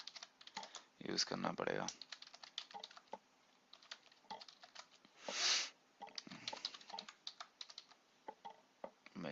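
Computer keyboard typed on while writing Java code, quick irregular key clicks in short bursts close up, with someone talking briefly between them.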